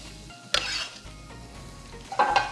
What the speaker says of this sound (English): I got a little sizzle going. I got some heat going here.